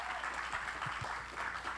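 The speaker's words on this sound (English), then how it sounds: "Please give him a round of applause." Brief, steady audience applause at an award presentation during the 14th Belize International Film Festival, a dense wash of clapping that stays even and moderately loud throughout.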